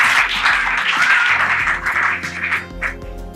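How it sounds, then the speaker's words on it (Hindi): A group of children clapping their hands together in steady, close applause that runs for a few seconds, with a low tonal backing sound underneath. "इस अच्छी बात पर सारे बच्चे तालियां बजाएंगे"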